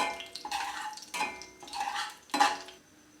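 A spoon scrapes and clinks in a pan while a halved bay leaf and black cumin are stirred in oil for a lau dal tempering, producing four or five short metallic strokes that come and go quietly, with no talk.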